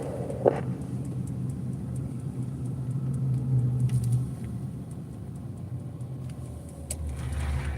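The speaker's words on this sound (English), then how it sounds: "Cars are slowing down, stopping." Road traffic rumbles low and steady beside a highway work area with trucks, a trailer and a backhoe, cars slowing and stopping amid continuous engine drone, with no voices.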